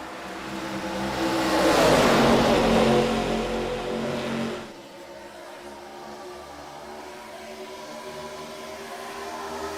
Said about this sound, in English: the rumble of them cars as they work the back stretch now into turn number 3